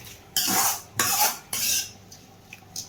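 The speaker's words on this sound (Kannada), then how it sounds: "ಫುಲ್ ನೀಟಾಗಿ ಮಿಕ್ಸ್ ಮಾಡ್ಕೊಂಡ್ಬಿಡೋಣ" Momo stuffing is mixed with salt in a bowl, heard as three sharp bursts of scraping and clinking a spoon against the dish, each followed by quieter stirring.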